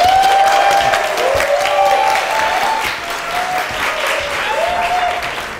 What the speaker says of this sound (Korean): 전사님 나오실 때 큰 박수 부탁드립니다.